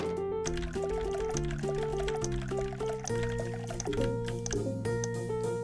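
Water trickles and fills a container in a dog shelter simulator game, a soft liquid sound beneath prominent melodic background music.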